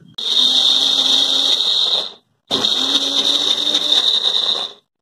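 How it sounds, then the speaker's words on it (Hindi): A mixer grinder grinding soaked urad dal whirs at high speed in two loud bursts, about two seconds each, separated by a short pause, with a steady grinding whine. "देखिए अभी थोड़ा हुआ ना इसलिए ये मिक्सी हिल रहा है"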